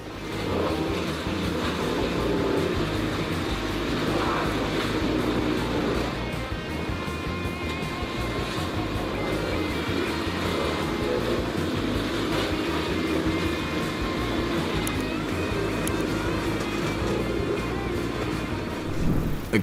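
A Pezolato PTH 1200-1000M drum wood chipper powered by a Scania DC16 engine runs with a loud, continuous heavy engine drone and mechanical rumble, with no break for nearly twenty seconds.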